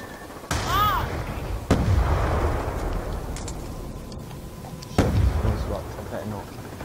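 Gunfire in the video game Black Ops 2: loud bursts of shots ring out repeatedly, with heavy booms near the start and middle over a dense, continuous game soundscape.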